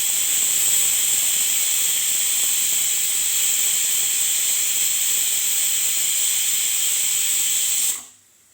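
A pressure cooker cooking horse gram rice lets out a loud, sustained steam whistle with a hissing rush, held steadily for about eight seconds before cutting off abruptly into quiet.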